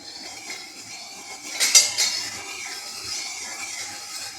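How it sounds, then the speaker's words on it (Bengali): A metal wok is set down on a home kitchen stove before cooking moong dal with moringa leaves, a brief clattering metallic clunk and scrape standing out from a quiet room. "কড়া বসিয়ে দিয়েছি।"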